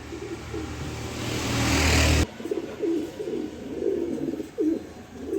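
A male racing pigeon coos in a run of repeated low, throaty calls after a loud burst of broadband noise at the start, the coos close and moderately loud.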